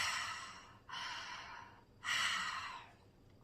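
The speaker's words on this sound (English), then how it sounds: "So the way that this breathing exercise works, it's a simple inhale and exhale." Slow guided breaths in a breathing exercise: two long, airy inhale-exhale sounds, close and fairly loud, with short pauses between them and no talking.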